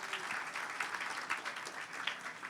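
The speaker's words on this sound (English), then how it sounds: "Round of applause for the staff." An audience at a radio station's 50th anniversary gala applauds for the station staff, a sustained, even wash of many hands clapping, heard from a distance and fairly faint.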